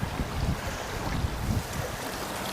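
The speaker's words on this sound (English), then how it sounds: "we're just getting snow melting and running off down the creek. And there's certainly lots of water flow." Snowmelt water rushing down a ravine creek toward a road culvert in late March, a steady, loud broadband wash with no voices.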